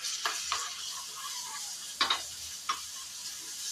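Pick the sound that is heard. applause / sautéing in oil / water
sautéing in oil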